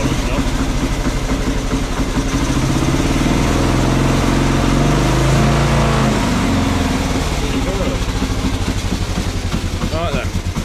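A Norton Model 50 motorcycle engine with a charging problem runs steadily close by, a loud, throbbing rumble that slightly rises and falls in pitch throughout.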